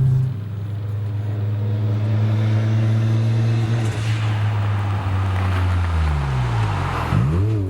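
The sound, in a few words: car engine revving at high RPM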